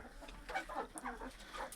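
Chickens in a coop cluck softly nearby in short, scattered bursts, faint and close, with no talking.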